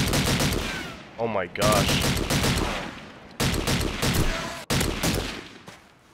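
Type 99 rifle fire in the online video game Call of Duty 2 comes as loud sustained gunfire with short gaps between bursts, plus a brief exclamation from a player partway through.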